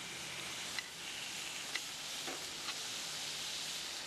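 Fish fries in a pan that is not non-stick, giving a steady loud sizzle and hiss, with a few soft scrapes and taps as a fish slice turns it.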